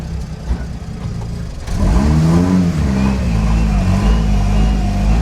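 A custom two-seater car pulls away on a road in Costa Rica, its engine revving up loud and close from inside the cabin, steady throaty drone after a quieter start, with faint talk.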